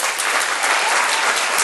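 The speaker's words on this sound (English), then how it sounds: "The clapping takes time." Steady, dense applause from an audience fills the whole moment, a continuous even wash of clapping hands without pauses.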